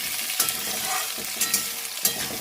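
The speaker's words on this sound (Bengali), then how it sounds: "মূলো দিয়ে একটু হালকা নাড়াচাড়া করে দিয়ে" Radish pieces fry in a pan for a Bengali fish curry, a steady hiss with repeated scraping strokes of a spoon or spatula as they are stirred, no voices.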